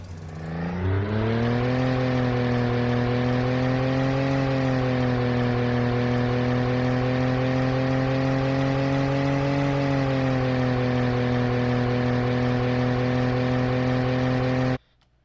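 A synthesized car engine built in Unreal MetaSound revs loudly and continuously, its steady harmonic drone rising in pitch and dipping slightly at the gear changes, then cutting off abruptly.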